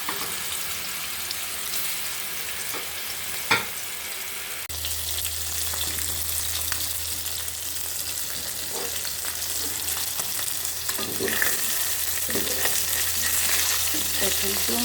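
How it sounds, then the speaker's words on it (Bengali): Fish frying in oil, a loud steady sizzle with crackling spatters and stirring clatter throughout, joined partway by a low constant hum. "এখন তো মাছ ভাজাটা কেমন হচ্ছে"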